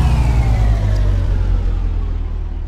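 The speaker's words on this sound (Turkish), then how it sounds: "Arabamızı da çalıştırdık." A car engine revs in the video game My Summer Car, a loud, steady low rumble that slowly winds down over a couple of seconds, close and without talk.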